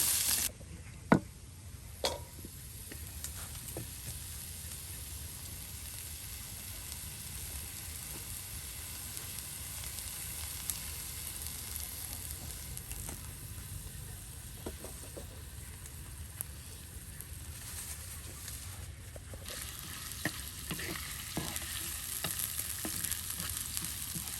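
Onion and garlic fry crisp in oil, a soft, steady sizzle at a low level with a few sharp clinks and stirring taps scattered through, no voices over it.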